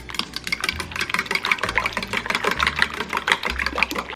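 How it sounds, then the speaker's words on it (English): Eggs, milk, black pepper and salt get whisked briskly in a small bowl, a rapid, steady clicking and tapping of the whisk against the sides, close and continuous with no talking. "Give it a good whisk."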